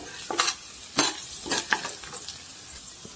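Soft sizzling of cumin sautéing in a pan with a few scraping stirs of a spoon, short bursts spaced about half a second apart.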